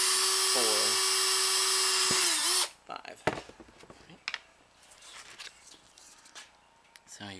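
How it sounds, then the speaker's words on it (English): A high-pitched drill whines steadily for a few seconds boring small holes in a plastic lid, then stops, followed by scattered clicks and handling noises. "we're going to drill a couple of little holes in this little lid right here"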